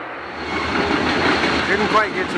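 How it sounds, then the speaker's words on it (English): A freight train rolls through Monroe Center after flood damage in 1996, a steady broad rumble of wheels and cars passing close by, with faint metallic squeals rising near the end. "This is the second freight train through Monroe Center in about a week because of the flood"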